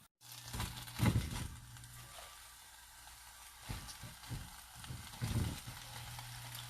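Spinach sizzles in a small frying pan, a soft steady hiss of wilting leaves over heat, with a few brief louder stirring and scraping bursts near the start and end.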